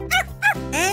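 Two quick, high cartoonish barks are followed by a rising whiny yelp, loud and close, with a tonal, voiced quality.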